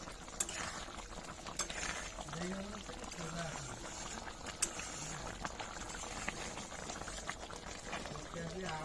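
Soybean curry with a thickened gravy simmers and bubbles in a pot, a steady soft boiling and patter running throughout with faint stirring, while a voice speaks intermittently over it.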